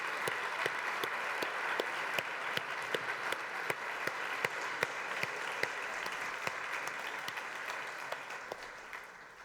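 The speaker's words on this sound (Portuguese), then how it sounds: "uma salva de palmas para todas essas heroínas" A studio audience breaks into sustained applause for single mothers, a dense steady wash of many hands clapping with a few sharper claps popping out, holding for the whole stretch before easing slightly near the end.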